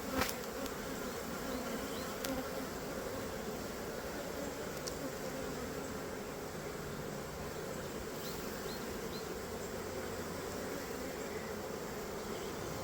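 Dense, continuous buzzing of many honeybees around a hive during an inspection, steady and close, with no talking.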